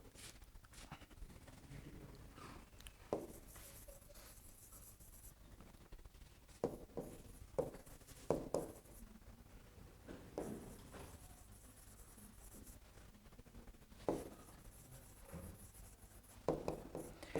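Chalk or marker writing on a board during a university lecture on transformers, heard as intermittent scratchy strokes and taps in short bursts around a quiet room, with little speech.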